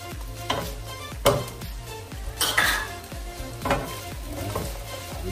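Garlic going into a hot pan for a Filipino chicken curry, a busy clatter of utensil scrapes and stirring over a soft background sizzle, with several sharper clanks standing out.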